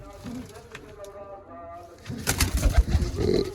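Pigeons kept in a coop coo softly in the background while someone talks nearby, and a louder burst of rustling and coos rises toward the end.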